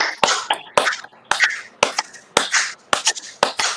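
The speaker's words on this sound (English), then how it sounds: "clap it like this." Hands clap in sharp, separate strikes, about eight over a few seconds at an uneven pace, each one close and crisp, with scattered voices talking between them at a live self-healing session.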